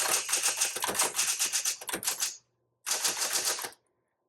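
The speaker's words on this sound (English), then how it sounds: "Okay, let's do some typing." Rapid keystrokes on a repainted 1970s Electra 220 typewriter, a dense run of clacks, a short pause, then another burst, close and clear with no voices.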